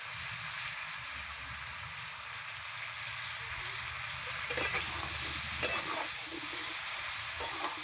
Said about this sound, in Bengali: ভালো করে নেড়ে চেড়ে আমি একটু ভেজে নেব।